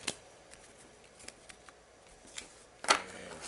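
A deck of cards shuffled during a tabletop game of Sentinels of the Multiverse, soft papery riffles scattered through the quiet before one louder, sharper burst of cards near the end.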